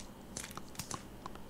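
A cartoon character chews hard baseball card gum, a run of close, quiet, irregular crunches and crackles over a soft background.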